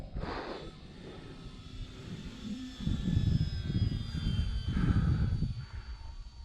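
On its maiden flight, an OMP Bighorn RC airplane passes with a steady engine drone that swells louder in the second half and fades at the end. No one talks.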